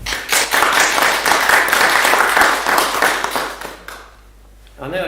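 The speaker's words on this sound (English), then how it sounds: "I think a round of applause might be in order." Audience at a shire council meeting clapping loudly and steadily for about four seconds before it stops abruptly, after which a voice begins to speak.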